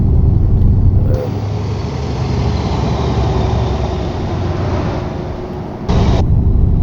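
Scania R580 V8 truck engine in Euro Truck Simulator 2 rumbling steadily on a Spanish countryside road, loud and close, the tone shifting slightly lower partway through before swelling again near the end.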